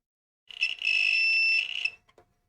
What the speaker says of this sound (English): Slightly dodgy beep when it is pressed.